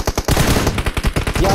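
Rapid automatic gunfire in PUBG Mobile fills the clip, loud and close, with dense repeating bursts in quick rhythm and almost no gaps, a vehicle being targeted.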